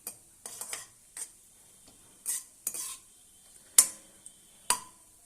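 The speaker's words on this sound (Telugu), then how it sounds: "కాజు కొంచెం ఎర్రగా వేయించుకోవాలి" Cashews frying in hot oil or ghee for rava laddu, stirred with a spoon that scrapes and taps the pan in irregular bursts over a soft sizzle.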